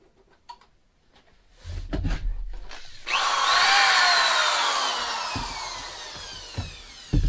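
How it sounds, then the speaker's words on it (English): A power drill plugged into a Go Power 1500W inverter spins up after some handling clicks, whining loudly at close range for several seconds, then slowing as it winds down. "We're going to plug in a drill."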